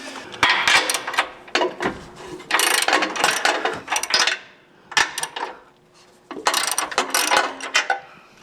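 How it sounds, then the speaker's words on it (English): A ratchet clicks loudly in repeated bursts, close by, as nuts come off the front bumper of a Jeep JL Wrangler, with brief pauses between runs. "Get all the inner bolts off first, or nuts that is."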